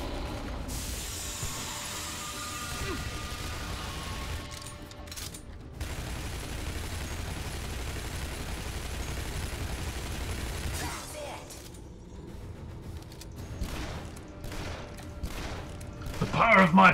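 Pistol gunfire rings out in the Shadow Warrior video game, in a dense, sustained barrage of shots mixed with other game effects. It stays loud throughout, and a voice can be heard at times.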